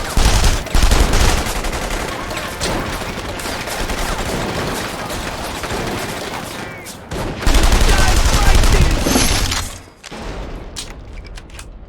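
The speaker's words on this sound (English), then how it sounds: "What's a day without getting shot at?" Sustained bursts of gunfire from The Saboteur, a World War II–era action game, rattle loudly and almost without pause, with a short lull before another heavy volley and scattered shots trailing off at the end.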